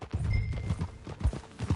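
Horse hooves clip-clopping in a quick, uneven rhythm as a horse is ridden in the video game Red Dead Redemption 2, close and fairly loud with faint background tones.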